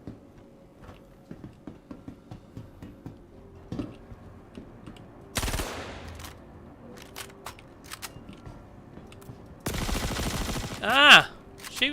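Gunfire in the Star Citizen video game: scattered sharp shots and short bursts, with two louder, denser volleys near the middle and end, over faint background ticking and a voice now and then.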